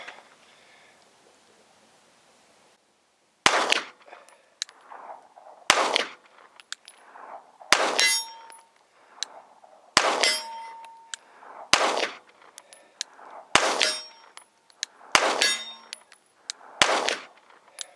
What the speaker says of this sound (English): All right, SIG P365, 50 yards. Shooting blazer brass ammo.